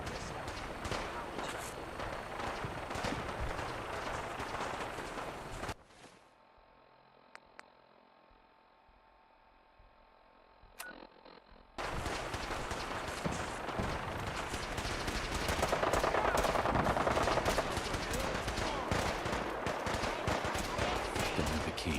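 Dense, sustained video-game gunfire rattles loudly for several seconds, drops out into a quiet stretch of faint ambience, then bursts back in as continuous heavy shooting that swells louder toward the end.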